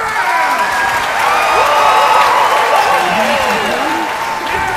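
Loud, sustained cheering and applause from a crowd in a video game, with whoops and shouting voices carrying over a constant wash of clapping for several seconds.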